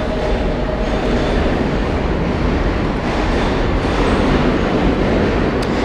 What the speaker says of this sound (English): Actually, this is not my train.